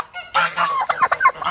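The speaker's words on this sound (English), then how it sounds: "That sounded like a really young Jake that doesn't know how to gobble yet." A young male turkey, a jake, attempts to gobble outdoors, giving a loud, close run of rough, broken honking notes that stutter in uneven pulses rather than a full gobble.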